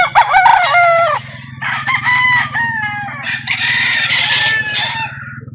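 Several roosters crow loudly and close by at a chicken market in Calauan, Laguna, calls overlapping one after another, with low clucking underneath.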